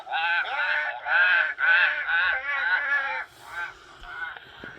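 Several harsh, drawn-out caws from a bird, repeated in a series of loud calls close by, with no talking.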